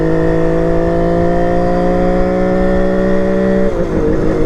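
A kick-started motorcycle pulls from 1500 RPM in first gear, its engine note climbing smoothly and loudly in a steady rising drone before easing off near the end.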